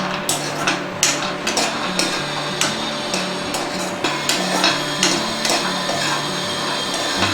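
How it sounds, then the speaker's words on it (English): Nuts for date-and-nut ladoos roast in a pan under continuous stirring, giving a steady run of sharp, rhythmic clicks and rattles from the spatula and nuts close up. "So roast that nuts continuously so that it evens out from all the corners."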